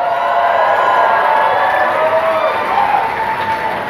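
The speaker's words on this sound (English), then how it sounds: "give yourselves a round of applause." A large crowd at a rock concert in Portland, Oregon, keeps up dense, steady cheering and applause, loud and continuous throughout.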